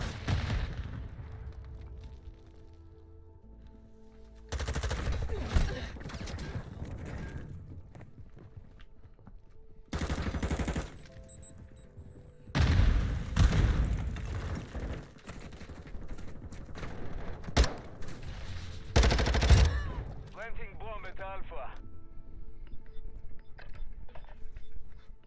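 Light machine gun fire in an online shooter match comes in several long, loud sustained bursts, with quieter stretches of game sound and movement between them.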